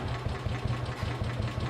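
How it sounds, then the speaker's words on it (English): A Royal Enfield Classic 500 motorcycle's single-cylinder engine idles steadily with a close, low rhythmic thump and mechanical chatter, running continuously and alone after a self start. "switch on the ignition, and now try giving a self start"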